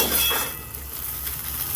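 Egg pieces frying in oil in a wok, a steady close sizzle with a soft continuous hiss throughout.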